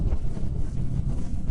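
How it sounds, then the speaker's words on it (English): Loud, steady wind roar buffeting a motorcycle helmet while riding at around 85 to 90 km/h, a dense low rumble filling the whole short stretch. "despite the wind in this helmet, which is a lot"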